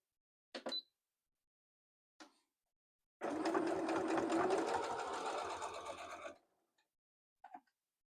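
A sewing machine stitches a slit in fabric: a short burst, a tiny tap, then a steady loud whirring run of about three seconds, and a brief final burst, close-up with silence between and no talking.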